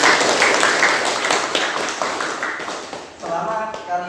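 Students in a classroom clap together for their group work, a dense burst of applause that fades slightly before a voice begins speaking over the tail end.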